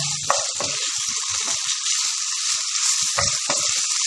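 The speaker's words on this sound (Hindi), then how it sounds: "उस वक्त तक फ्राई करेंगे जब तक ये लहसुन जो है इसका कच्चापन ख़त्म ना हो जाए।" Garlic frying in ghee, a dense, steady crackling sizzle close up, with occasional soft stirring knocks and scrapes beneath it.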